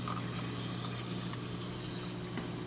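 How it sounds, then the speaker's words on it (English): Aquarium water spilling over the edge into an internal overflow, a steady soft trickling and gurgling wash over a low pump hum, continuous and fairly faint. "Water goes over the edge into the internal overflow"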